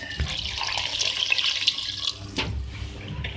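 Two glasses of water are poured into a pot of beef curry with potatoes and peas, making a steady, close splashing rush with no voices.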